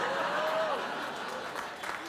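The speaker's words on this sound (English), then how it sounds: "Please, don't applaud." A late-night talk show studio audience claps and applauds in a dense, steady wash of sound that holds for a couple of seconds, with a faint voice over it.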